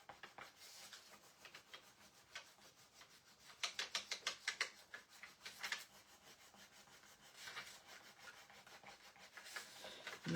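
A fingernail rubs back and forth over a wooden door hanger, making close, dry scraping strokes that speed into a quick rhythmic burst near the middle. No voices are heard.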